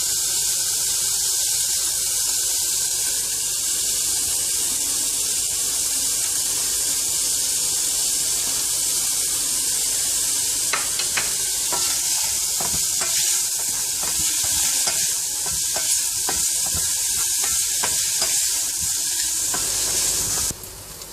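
Mushrooms and carrot frying in a pan, a steady loud hiss and sizzle throughout, with scraping and stirring noises joining in over the later part.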